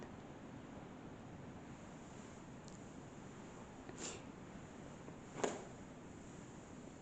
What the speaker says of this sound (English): Ooh, the wind now, jeez. That has really picked up.